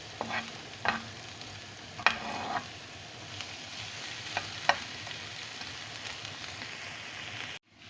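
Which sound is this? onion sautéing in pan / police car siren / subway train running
onion sautéing in pan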